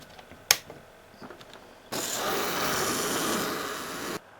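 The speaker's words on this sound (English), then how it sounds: "we're going to be using an ultrasonic cutter and just more or less cutting the piece out" An ultrasonic cutter slices through a plastic Gunpla model kit piece, a close, steady abrasive hiss lasting about two seconds, preceded by a sharp click and a few light taps.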